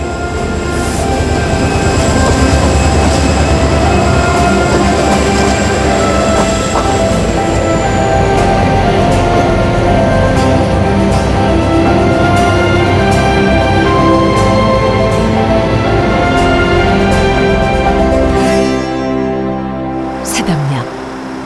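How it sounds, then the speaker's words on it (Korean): A Mugunghwa passenger train pulls out of Samnangjin station on the Gyeongbu line. A loud, steady rumble of rolling wheels and engine drone continues throughout, with rail clatter and a brief squeal near the end as the sound eases off. "무궁화호 열차는 다시 경부선을 달려 부산으로 향합니다"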